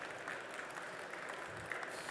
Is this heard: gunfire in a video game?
no